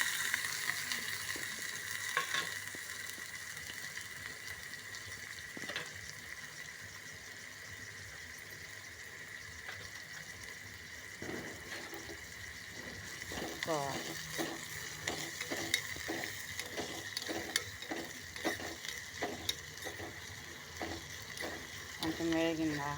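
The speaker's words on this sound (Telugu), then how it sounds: "కొంచెం వేగిందాక వేయించుకోవాలి" Cut vegetable pieces frying in hot oil, a steady close sizzle throughout with a spoon scraping and stirring the pan in repeated strokes toward the end.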